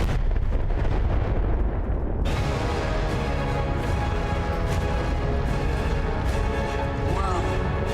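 An airship bursting into flames and blowing up in the Battlefield 1 video game: a constant heavy roar of blasts and rumbling fire, joined by a sharp, brighter crash partway through and sustained loud battle noise.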